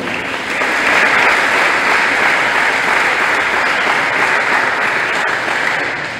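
A church congregation at an Advent proclamation in Guayaquil, Ecuador, breaks into applause for a community member, a dense roomful of clapping that swells quickly, holds steady for several seconds, then eases off.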